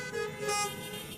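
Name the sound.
audience imitating a car horn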